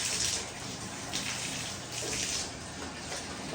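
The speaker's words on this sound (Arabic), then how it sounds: "انا هغسل السيراميك بس على قد ما انا هطول" Water splashing and running steadily over ceramic tiles as a bathroom is washed down, a continuous close hiss with slight surges, no talking.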